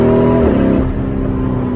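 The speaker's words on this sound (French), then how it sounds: "t'entends le son du moteur qui est tout simplement incroyable" Tuned Lamborghini Urus engine while driving near mountains: a loud, close, steady engine roar whose tone drops partway through as it shifts, with no speech over it.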